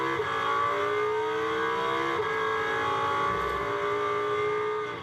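An Audi GT2 race car engine howls at the Algarve circuit during a GT2 Series race. The loud onboard roar holds steady and close throughout, with shifting engine pitch heading downhill and no voices.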